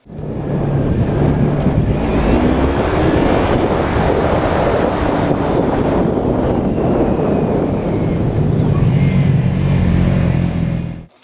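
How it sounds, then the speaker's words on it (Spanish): A Yamaha MT-03 motorcycle engine drones steadily and loudly, with heavy wind rush over it, as if riding at speed, ending abruptly. "es un sonido más suave, más sientes que la moto va más descansada"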